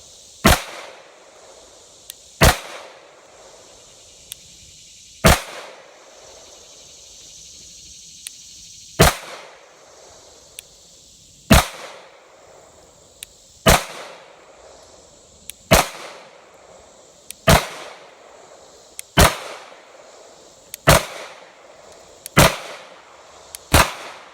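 Beretta 90-Two pistol fired at a range, about a dozen loud, sharp shots spaced a few seconds apart with short echoing tails, with no talking between them.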